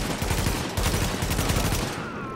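Rapid automatic gunfire in The Division, a dense, continuous stream of close, loud shots for a couple of seconds, tailing off at the end.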